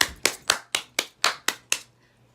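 Eight sharp hand claps in a steady, evenly spaced rhythm, close and clear with no voices over them, fading into quiet at the end.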